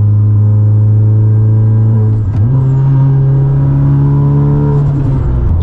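A 547 WHP big-turbo Honda Civic Type R engine drones loudly from inside the car, holding a steady tone, then stepping up in pitch after a shift and pulling hard under acceleration.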